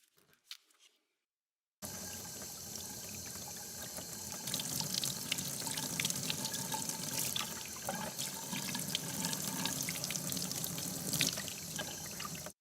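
Running water rinses a freshly polished aerogel piece, a steady broad wash like a tap or sink flow, loud and continuous after a brief quiet start, with no talking.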